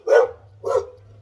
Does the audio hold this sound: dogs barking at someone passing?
yes